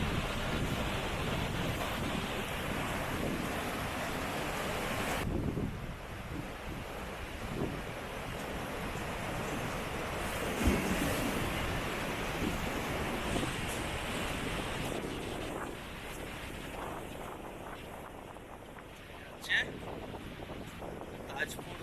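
Rough, churning sea waves roll onto Tajpur beach, a continuous loud roar of surf mixed with gusts of wind buffeting the microphone, with the wash rising and falling over time.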